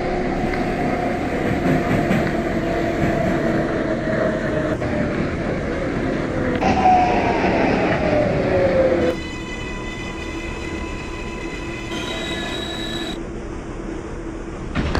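An R142 subway train on the Manhattan-bound 6 local in a train simulator runs with a steady loud rumble and wheel noise, a rising whine as it accelerates, then a quieter steady ride with tonal hums toward the end.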